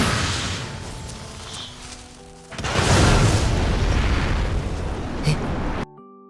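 A low-level anime fire magic spell bursts into a loud, roaring explosion with a whooshing rumble that swells and then sustains, laid over a musical score before it cuts off abruptly.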